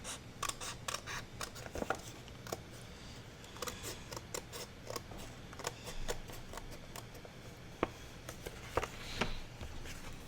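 Scissors snipping down a paper file folder pocket for a craft project, a string of short, crisp cuts and clicks at close range over a faint steady room hum, with no talking.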